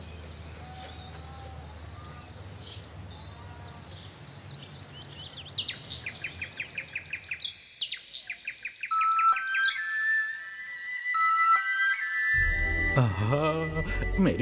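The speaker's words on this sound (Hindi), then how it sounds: "इन्हें जिस बुलबुल से लगाव था, सिर्फ उसी की आवाज इन्हें बचा सकती है" A bulbul, a nightingale, sings in rapid, repeated chirping trills and whistled notes, fairly close and clear, following a stretch of soft background murmur and sustained tones.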